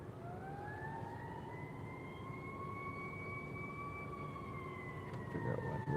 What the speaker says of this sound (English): now we got sirens and stuff